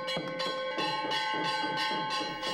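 Bells ringing at a religious offering ritual for the god Bhairava, a steady sequence of bright metallic strikes repeating about every half second, sustained and moderately loud with no talk.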